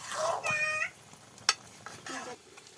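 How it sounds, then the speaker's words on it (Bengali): Chopped onion and garlic stirred in hot oil for a village-style fish and ridge gourd curry, giving a soft sizzle with spoon scrapes, a sharp clatter midway and a faint meow-like squeak. "এখন গরম তেলে পেঁয়াজ কুচি আর রসুন কুচি দিয়ে দিল কোচাগুলো ভালো করে নেড়েছে ছেড়ে কষিয়ে নিচ্ছে"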